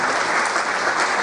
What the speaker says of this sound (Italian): ti faccio un applauso